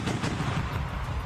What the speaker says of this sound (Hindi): सबूत के तौर पर रूसी सेना ने एक वीडियो जारी किया, जिसमें उनका एक टैंक अपने दुश्मनों पर ताबड़तोड़ गोलियां दागता नजर आया।